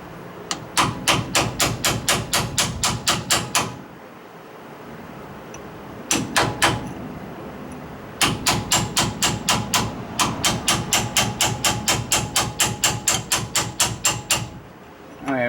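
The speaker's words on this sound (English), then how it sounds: "Oh, I need my little chisel." A hammer strikes a chisel against a crusty wheel bearing on a Bullnose Ford F-150 Cummins project truck's Dana 44 axle, in fast, sharp, evenly spaced metallic bursts broken by short pauses.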